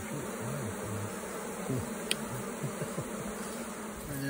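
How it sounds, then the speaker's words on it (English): Steady buzzing of many honey bees close by during removal from an old house, a continuous drone with individual bees passing near, no talking. "There's some brand new baby bees right there."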